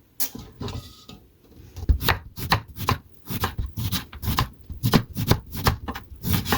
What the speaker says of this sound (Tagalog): Hihiwain natin ng konti ng ganito pag maglimonade tayo po